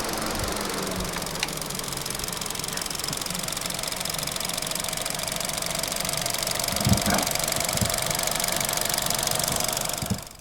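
A 2023 Hyundai Venue's 1.6 MPI 123-horsepower petrol engine runs at a steady idle, giving an even, close mechanical hum with a light ticking texture and no talk over it.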